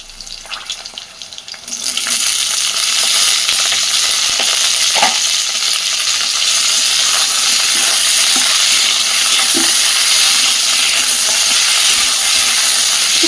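Chopped flat beans drop into a hot pan with green chili and garlic and start frying. A sudden loud, steady sizzle begins after a quiet moment, with occasional stirring scrapes and pops beneath it.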